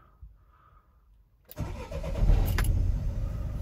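A Renault Trafic 1.9 dCi van engine with a fault that stops it revving cranks and catches after a quiet moment, then settles into a loud, rough diesel idle that rises slightly as it revs.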